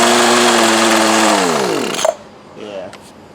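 A 20-year-old Poulan Pro hedge trimmer in poor condition, its small two-stroke engine running at a high buzzing idle on half choke, then winding down and cutting out, followed by brief faint clicks and a short low sputter.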